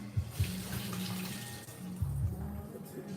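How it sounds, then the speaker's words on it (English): Little potatoes rinsed under a running kitchen tap, a steady close stream of water with soft splashes and a few knocks as they are handled. "give these a rinse. Little potatoes."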